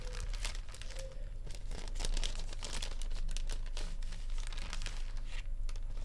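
Plastic packaging crinkles and crackles in bursts as it is handled and torn open close by, with brief quieter gaps between.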